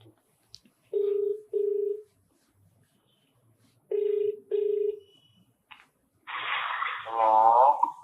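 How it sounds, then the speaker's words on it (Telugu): A phone call on loudspeaker rings with two short double-ring tones separated by silence, then a voice answers over the speaker. "ఫోన్ చేసి లౌడ్ స్పీకర్ పెట్టు"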